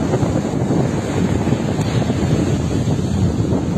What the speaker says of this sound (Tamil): பாருங்க நம்ம ஊர் கடல்